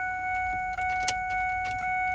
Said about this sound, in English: So I'm going to turn the key on